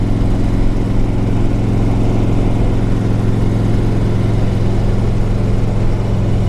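A 2004 Harley Davidson Ultra Classic motorcycle with 60,000 miles is ridden on a test drive, its engine droning loud and steady with wind rush and a constant low rumble throughout.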